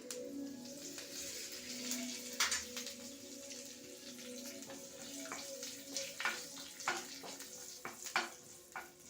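Curry leaves fry in hot oil for a Maharashtrian katachi amti, giving a steady close sizzle with scattered sharp pops and crackles throughout, and no voices.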